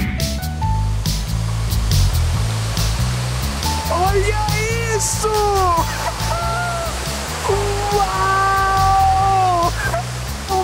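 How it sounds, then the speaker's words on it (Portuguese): A waterfall pours continuously in a natural outdoor setting, a loud rushing roar heard throughout while an excited voice talks over it. "A água cai de lá de cima o tempo todo sem parar"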